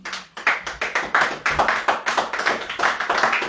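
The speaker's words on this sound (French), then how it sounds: "Est-ce qu'on peut applaudir pour Jésus?" A church congregation claps for Jesus, many hands in a dense, rhythmic burst of applause that stays loud and close, with no talking over it.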